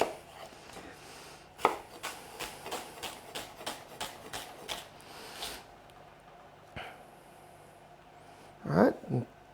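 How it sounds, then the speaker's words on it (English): Onions being finely cut with a knife on a board, a close, steady series of crisp chops followed by a few scattered strikes, with a short burst of voice or barking near the end. "we're going to keep on finely cutting these onions"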